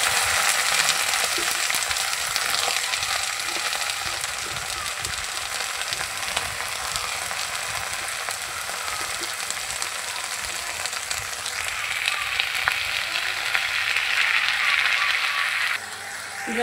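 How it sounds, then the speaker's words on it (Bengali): Jute leaves (pat shak) frying in a pan with onion and chopped garlic, a steady close sizzle with occasional stirring scrapes that brightens into a louder hiss near the end. "এই যে এই পাশে আমি পাট শাকটা ভেজে নেব।"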